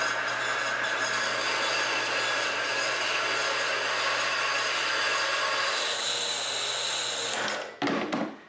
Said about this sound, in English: I just want to cut this top ream off with the bandsaw